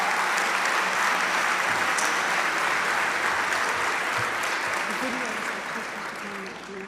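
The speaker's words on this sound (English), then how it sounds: "I would suggest that we all give them another round of applause." An audience at a housing foundation symposium applauds a panel with loud, dense clapping that holds steady and then gradually tapers off, with a few faint voices underneath.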